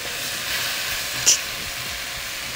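Osso buco cooks in a pot with a steady, close hiss of steam and sizzle, broken once by a brief sharp click.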